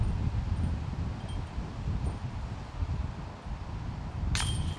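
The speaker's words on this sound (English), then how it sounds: "And you hear what the wind is doing." Wind gusts across an open disc golf course, making a steady rumbling rush with blustery surges and fading swells, and a faint metallic clink near the end.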